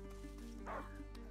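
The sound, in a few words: dog barking in video game A Plague Tale: Innocence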